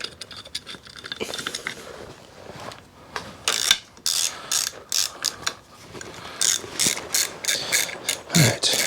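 Hand tools, including a ratchet, click and clatter at close range while working on a 1992 Harley-Davidson Evo Sportster. Rapid bursts of ratcheting are broken by clinks and short pauses, growing busier toward the end.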